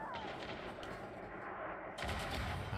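Gunfire in an Elite Dangerous space battle against Thargoids: a dense, continuous rattle of rapid shots with a brief lull, then a louder burst of fire.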